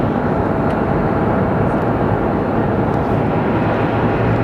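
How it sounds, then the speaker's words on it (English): Embraer jet airliner arriving at Sky Harbor Airport in Phoenix, heard as a loud, steady engine roar that fills the whole stretch without letup. "We're watching another Embraer come in."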